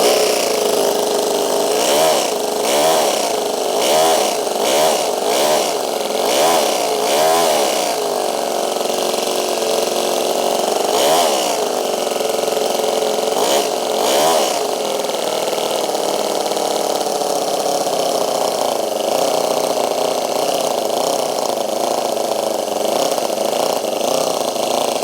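A small four-stroke, four-cylinder engine running on methanol revs with a buzzy whine. It rises and falls in repeated throttle blips, then settles into a steadier, rougher drone near idle.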